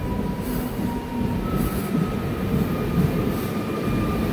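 A Howrah–Goghat local train rolls into Goghat railway station with a steady low rumble and faint wheel squeal throughout, no voices.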